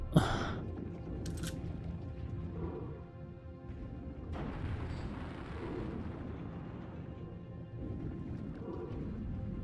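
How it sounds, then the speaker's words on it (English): Big Daddy firing a rocket launcher in BioShock 2, heard as a sharp launch burst followed by a sustained roaring, rumbling blast that lingers through the rest of the moment, loud and close with no talk. "Why don't you shoot a rocket?"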